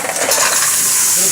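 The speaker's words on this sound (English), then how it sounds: "we'll throw in the clams" Little baby clams tumble into a hot pan of browned garlic, a brief bright clatter of shells against metal that settles into a steady sizzle, close and loud.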